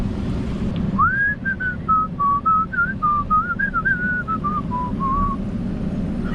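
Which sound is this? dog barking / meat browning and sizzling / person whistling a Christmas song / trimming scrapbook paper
person whistling a Christmas song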